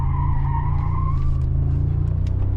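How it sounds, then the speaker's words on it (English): Tires squeal loudly as a 2025 Mercedes-AMG G63 facelift on summer tires corners hard, a sustained high whine over the deep, steady rumble of its V8 that continues throughout. "tires are squeaking"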